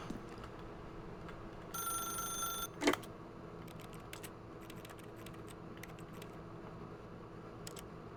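A telephone rings once in the video game The Stanley Parable, a short electronic trill over a steady hum, followed by a sharp click and scattered faint ticks and taps.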